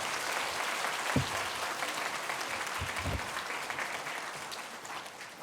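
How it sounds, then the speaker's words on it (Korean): Church congregation applauding in encouragement for the children during a worship service, a dense, even wash of many hands clapping throughout, fairly loud and steady with a couple of low thumps. "또 여러 우리의 자녀들 위해서 큰 박수 축복에 격려하겠습니다"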